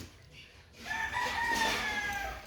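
A broodcock rooster crows once, a long rising then level call, fairly close and clear over a low background hum.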